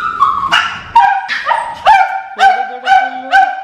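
Small puppies give a quick run of high-pitched yips and squeaky barks, about eight in a row, close by and loud.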